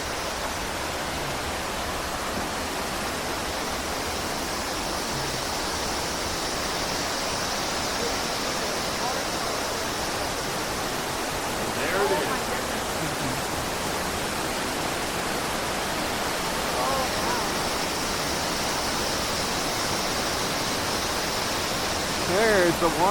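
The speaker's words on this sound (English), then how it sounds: "There's the waterfall." A waterfall in El Valle, Panama roars as a steady, broadband hiss that holds evenly throughout at moderate distance, with faint bird calls and a brief voice near the end.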